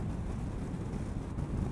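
Steady, heavy wind roar buffets the microphone throughout, a constant low rumble with no let-up, recorded while riding a 2019 Yamaha XMAX 250 ABS scooter across a bridge at about 80 in a crosswind.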